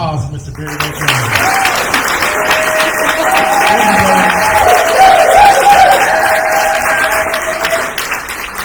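Audience applauding steadily for Barry Botone at an All Nations Wellbriety gathering, a dense wash of clapping from a room full of people with a few voices mixed in, sustained at an even level throughout.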